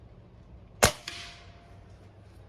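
A Daisy 1101S air pistol fires one sharp, close pop followed a moment later by a fainter impact snap, with quiet surroundings before and after.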